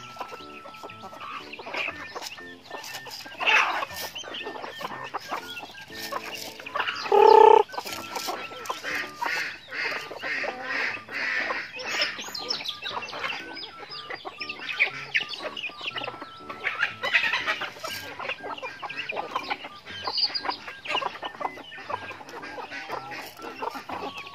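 Native chickens cluck steadily over a busy farmyard, with several birds calling at once and a few louder squawks rising above the continuous background of fowl sounds.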